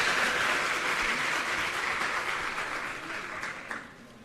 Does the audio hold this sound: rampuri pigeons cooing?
no